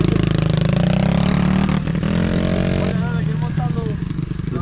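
Motorcycle engine revving loud and close on a street in Medellín, a steady throbbing drone that swells and dips, with people talking over it.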